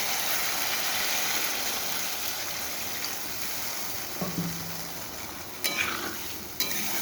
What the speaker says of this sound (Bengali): আমার মশলাটা একদম কষিয়ে গেছে এবারে দিয়ে দেবো পরিমাণ মতো জল